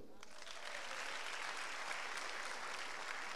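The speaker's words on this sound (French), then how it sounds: "Oh, acclamons pour eux." A church congregation applauding at an evening service, a dense, steady wash of many hands clapping throughout at a moderate distance.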